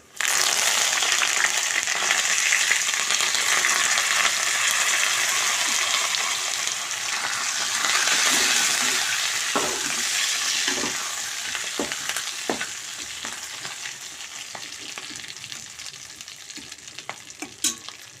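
Curry leaves hit hot oil in a pan for a fenugreek-leaf and tomato dal tempering, giving a loud, dense crackling sizzle that slowly eases off, with scattered sharp pops and utensil taps toward the end.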